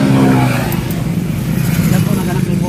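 Motorized tricycles pass along a street with loud, rough engine drone that swells and churns close by, while people talk over the noise.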